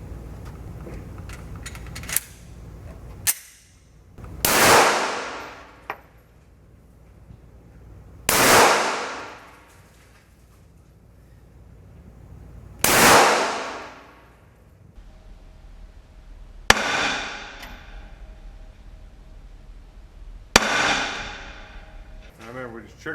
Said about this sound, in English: Today I'm shooting a Glock 19.